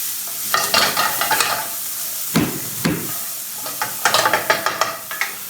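Garlic sizzling in a pan while being stirred, with soft hissing and bursts of scraping stir strokes in clustered rhythms, close by and without talk.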